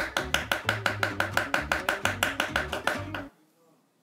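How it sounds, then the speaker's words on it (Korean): Rapid, steady knife chops on a cutting board, about a dozen sharp even strokes in quick rhythm, close and loud, then stopping abruptly. "칼질 들어갑니다"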